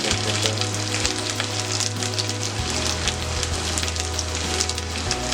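Pork sizzles steadily in a pan with ginger and garlic while a utensil stirs it slowly, giving a continuous close crackle with a low background hum and no talking.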